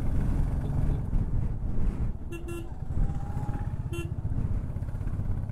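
A vehicle horn sounds twice, loud and nearby, in two short honks behind a Royal Enfield Classic 350 motorcycle in crowded traffic with buses near Dhanushkodi, over a steady engine and road rumble.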